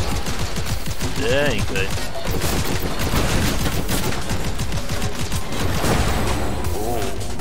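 Rapid sniper and weapon fire in the rogue-like shooter Seraph, loud and continuous with dense cracking bursts, while someone speaks briefly over the barrage.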